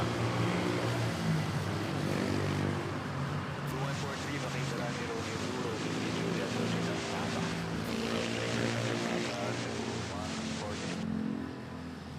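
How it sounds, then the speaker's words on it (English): A Cebu Pacific airliner arriving at Manila Airport, a steady broad engine roar heard from a distance, with a person talking over it. "This Cebu pack arriving from Hong Kong."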